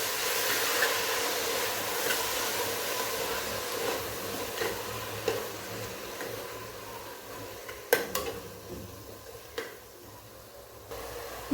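Food frying in oil in a home kitchen while methi bath (fenugreek rice) is being made: a steady, fairly close hiss with occasional clinks of a utensil stirring against the pan.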